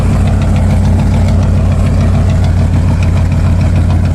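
A 1989 Mercury Grand Marquis V8 idles after a true cold start with a loud, steady, close low rumble and an even rhythmic pulse throughout, and no voices.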